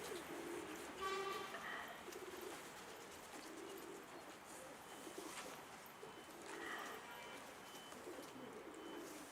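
Pigeons coo outdoors after rain, soft repeated calls rising a few times over a steady background hiss, with faint distant noise and someone talking quietly nearby.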